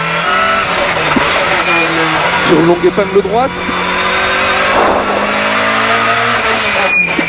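Peugeot 205 rally car screaming at high revs on a stage, loud engine drone with gear changes and brief tire noise, heard from inside the cabin while the co-driver calls pace notes and the crew talk.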